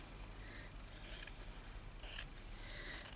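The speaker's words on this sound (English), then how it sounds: "here we're going to have to cut it off" Three crisp scissor snips spaced about a second apart, cutting through felt close up against a quiet background.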